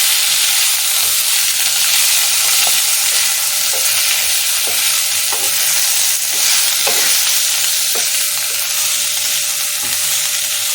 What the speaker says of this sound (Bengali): এবার ভালো করে মিক্স করে এটা ভাজবো।